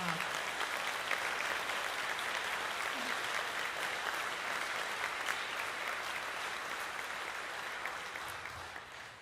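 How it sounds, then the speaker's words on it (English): An audience at a high school all-state band concert applauds the student musicians. The clapping is steady and moderately distant, tapering slightly toward the end. "Give them another round of applause."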